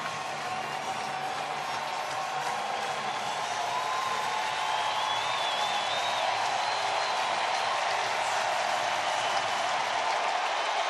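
Broad, steady crowd murmur fills a baseball stadium during an Orioles home game against the Rays, a continuous wash of distant voices and scattered applause holding level throughout with no single voice standing out.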